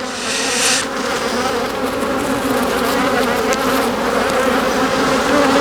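Honeybees swarming around an open hive during varroa treatment at the end of the beekeeping season, a dense, steady close-up buzz holding unbroken from start to finish.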